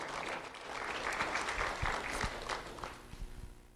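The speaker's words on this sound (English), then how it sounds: "Round of applause for James English." Audience at a sheriff's office student recognition ceremony claps for an elementary school student, a steady round of applause with a few sharp individual claps and some shuffling before it thins toward the end.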